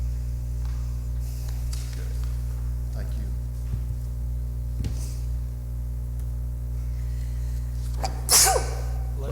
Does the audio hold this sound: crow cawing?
no